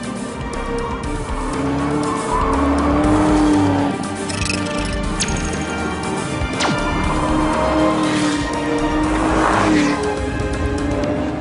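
A Chevrolet Corvette ZR1 supercar driven hard on a racetrack, its engine roaring loud and sustained with rising and falling pitch as it shifts, plus brief tire squeal and sharp transient knocks, with no talking.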